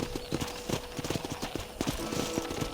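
Horse hooves clip-clopping in the video game Red Dead Redemption, a quick, even rhythm of hoofbeats close up, with faint background sound.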